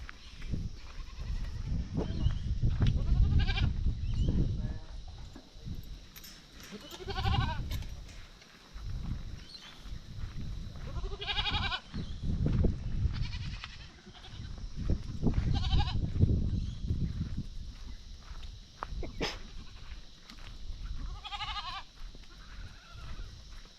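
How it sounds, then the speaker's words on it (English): Several goats bleat in a farm paddock in repeated loud, wavering calls spaced a few seconds apart, over a constant background hiss. "Take care of the crazy goats first."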